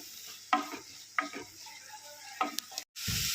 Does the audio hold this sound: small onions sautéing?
yes